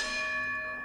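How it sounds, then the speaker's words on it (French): Carillon bells ring out the hour from an automatic chiming drum, one sustained shimmering peal with long resonant overtones, fairly distant and alone without talk. "les fameuses sonneries qui rythment les heures"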